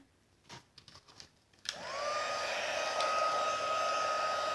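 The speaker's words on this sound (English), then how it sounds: "now you're going to take your tree and your heat gun." After a few soft handling clicks, a heat gun switches on and spins up into a steady, close, whooshing blow with a whining motor tone while warming a paper card-making die-cut.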